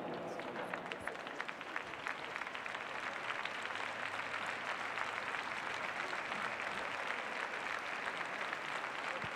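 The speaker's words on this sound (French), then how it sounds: "Et continuez donc à les applaudir maintenant en cadence, mesdames, messieurs" A large audience inside the Grand Palais applauds show jumping riders at an equestrian event, continuous dense clapping that fills the space at an even level throughout.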